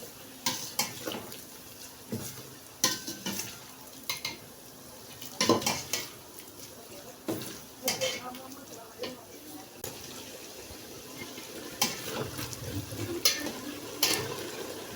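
Stir-frying green pepper in a pan for fried rice, with a spatula clattering and scraping against the pan in irregular bursts over a soft sizzle, close and moderately loud.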